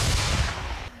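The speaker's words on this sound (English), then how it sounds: "步枪或美国提供的白朗宁重机枪猛射" Gunfire from AK rifles and Browning heavy machine guns in a snowy frontline trench in eastern Ukraine lands as a loud, short burst of shots that fades within a second.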